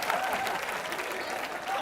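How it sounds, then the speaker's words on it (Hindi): Studio audience of a Hindi TV comedy show breaking into loud, sustained applause, a dense even roar of clapping that holds at the same level throughout with a faint voice in the mix. "आज जोरदार तालियां हो जाएं।"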